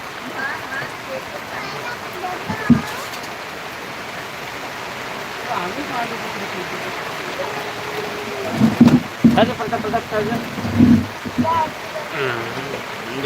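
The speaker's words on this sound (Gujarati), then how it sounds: "ધમાકેદાર વરસાદ ચાલુ થઈ ગયો જબરજસ્ત" Heavy morning rain pours steadily in a continuous hiss, with people talking over it and a few louder splashy bursts partway through.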